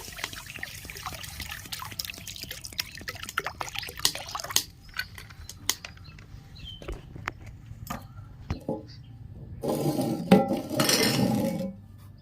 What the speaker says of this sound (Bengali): কড়াইতে আমি জল দিয়ে দিচ্ছি